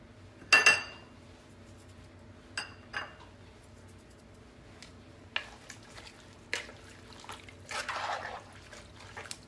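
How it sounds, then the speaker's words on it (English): A spoon stirs summer soup in a cooking pot, giving soft intermittent clinks against the metal and faint liquid swishes, quiet and close with pauses between strokes. "So I'm just going to give it a stir."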